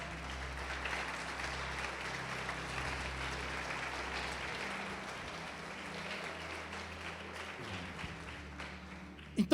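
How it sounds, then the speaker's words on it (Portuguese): A church congregation applauds in a sustained, fairly faint wash of clapping heard from a distance over a low hum, with a brief louder burst at the very end. "vamos aplaudir o Senhor Jesus."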